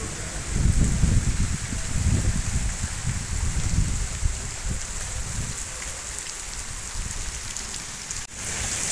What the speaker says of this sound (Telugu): మళ్ళీ వర్షం అయితే మళ్ళీ ఎక్కువగా స్టార్ట్ అయింది